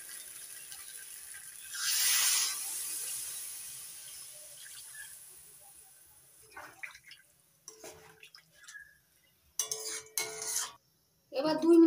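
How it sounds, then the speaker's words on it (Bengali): Water is poured into a pan of cooking tomatoes, a brief rushing splash early on, then quiet, followed by scattered clinks and sizzling bursts from the pan. "এবার দিয়ে দিচ্ছি পরিমাণ মতো জল।"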